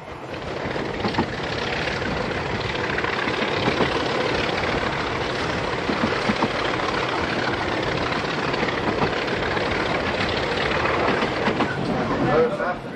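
Zambezi Express passenger train rolling on rails after Francistown, Botswana, nearing the Rhodesian border: a steady, loud, continuous rumble and rattle of carriages that persists unbroken throughout.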